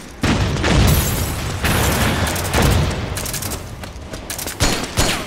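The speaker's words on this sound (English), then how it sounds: "another grenade hit someone" A grenade detonates in Metal Gear Online survival mode, a loud boom amid dense crackling gunfire, followed by further sharp bursts and pops in a chaotic firefight.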